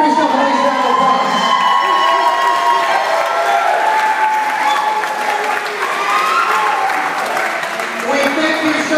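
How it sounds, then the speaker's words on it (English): Wedding reception guests in a hall cheer and clap together, a loud mix of applause, whoops and shouting voices that swells and then eases near the end. "Give yourself a nice round of applause."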